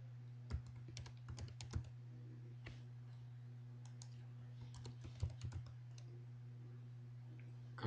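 Keys clatter on a computer keyboard in short, quiet bursts of typing separated by pauses, over a low steady hum.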